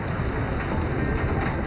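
Steady rain pours down through the night in northern Pakistan's cold winter weather, a dense continuous hiss with soft patters, close and unbroken, with no voices.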